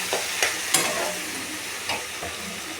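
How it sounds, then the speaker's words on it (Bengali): A pan of mashed eggplant, tomato and potato for begun bharta sizzles while a spoon stirs and scrapes through it. A few distinct scraping strokes stand out over a steady soft fry, up close and without speech. "তারপরে এটাকে আমি ভালো করে কষে নেব।"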